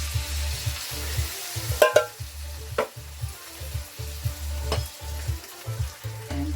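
Tomatoes stirred into frying onions for a chicken curry, cooked in a pan at a cabin. Close sizzling comes with a steady rhythmic pattern of spoon strokes and scrapes, and no voices.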